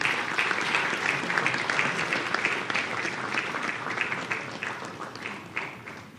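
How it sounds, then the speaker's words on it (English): A crowd at the National Thought Leadership Forum applauds to welcome the keynote speaker. The clapping is dense and continuous, heard from within the hall, and a few voices come through underneath it. "please rise and help me warmly welcome our keynote speaker for today's Thought Leadership event, Honorable Kenneth Gilbert Ejay."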